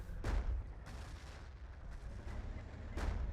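Grenades burst during a Battlefield 1942 multiplayer match near an APC held at a flag. Several muffled, distant-sounding booms rise out of a low, continuous battle rumble, spaced a second or so apart.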